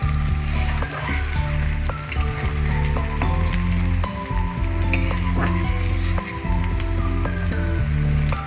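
Chicken kosha sautéing in a hot pan with dried red chillies, a loud continuous sizzle and crackle with periodic stirring, close and dense throughout.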